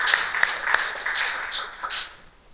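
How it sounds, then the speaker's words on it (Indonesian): Classroom applause for a student group during an Indonesian-language lesson: a scattering of claps, fairly light and uneven, spread across the moment rather than a dense ovation. "Boleh tepuk tangan untuk kelompok 2."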